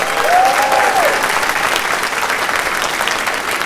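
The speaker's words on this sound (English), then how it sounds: "Let's give them a round of applause." A crowd applauds at the closing ceremony of a furry convention gaming tournament, with a steady, dense wash of clapping and a brief whoop near the start.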